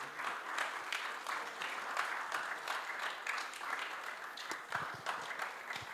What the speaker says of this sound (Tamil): எல்லாரும் ஒரு பெரிய ஒரு கரகோஷம் கொடுத்து தாமஸை வந்து நம்ம வரவேற்றுடலாம்.